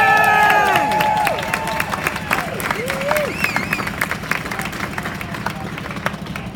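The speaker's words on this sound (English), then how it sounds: "Big round of applause, please." Crowd applause and cheering at an outdoor Abolish ICE rally, a dense, loud wash of clapping with whoops and shouts that holds steady for several seconds before slowly thinning.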